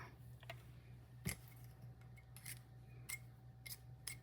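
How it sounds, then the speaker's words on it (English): Scissors snipping a small piece of paper card, a handful of sharp, crisp snips spaced irregularly, close but quiet over a faint steady hum. "Let me go ahead and cut that."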